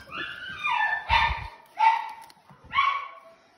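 Several short, high-pitched Cockapoo puppy barks and yips in bursts, fairly close, with brief pauses between them.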